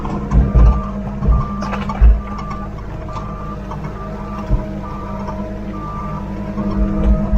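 A concrete mixer truck backs up on a steep, greasy slope, its reversing alarm beeping in a steady repeated pattern over a low engine rumble, with a few louder knocks and thumps.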